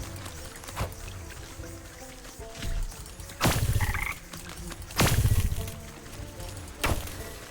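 Frogs croak in Wytchwood, the video game: a few loud, throaty bursts spaced a second or two apart, standing out from quiet ambient game background with no speech.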